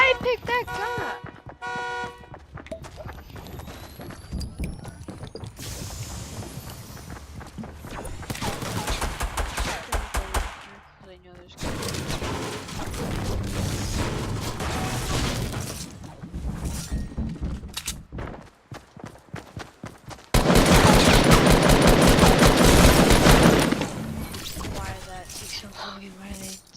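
Shotgun blasts and other gunfire crash through a shooter video game, loud bursts in chaotic clusters, with a player talking over the action.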